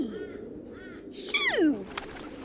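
Crows caw as a sound effect in a children's animal song, a few harsh calls building to a loud descending caw, close and clear with no voices.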